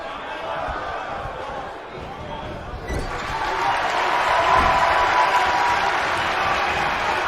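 A wrestling crowd cheers for Sandi Starz at a qualifying showcase, a broad roar that builds and stays loud, with thuds from the ring beneath it.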